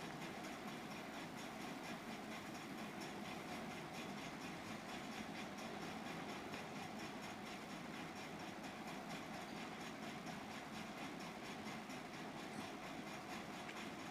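A sewing machine stitches blouse fabric with a steady, continuous mechanical whir and fine rapid ticking, unbroken and fairly close throughout with no talk.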